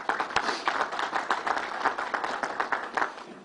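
An audience at a Belmont Park announcement claps steadily for a few seconds, a dense, moderately loud patter of hands with no voices over it.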